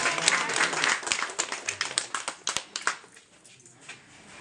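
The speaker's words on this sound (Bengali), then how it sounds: "নমস্কার জানিয়ে হাততালি দিয়ে দাও।" An audience at an Annapurna puja gathering at a house in Hatibagan claps together in a brisk run of sharp, close claps that thins out and fades near the end.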